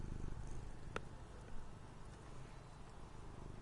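A cat purrs right against the microphone, a low, steady rumble that stays quiet and close throughout, broken by one faint, brief high click.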